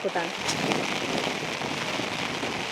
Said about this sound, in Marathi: चांगला जोरात पाऊस पण आला